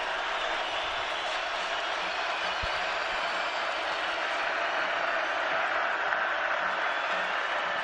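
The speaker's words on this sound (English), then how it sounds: "This crowd is really letting him have it." Dense, steady roar of a hostile football stadium crowd jeering the Montana quarterback at an Idaho vs Montana college game, sustained and loud without letup for several seconds.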